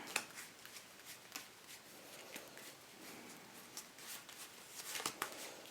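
A deck of Bicycle Tie Dye playing cards is handled and riffled in quiet, close papery flicks and soft shuffling bursts, with no talk.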